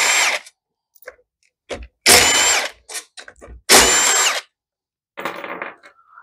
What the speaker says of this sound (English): if you don't have one of these mini impacts, you could do it, but it's just way easier. Just snaps them loose real quick.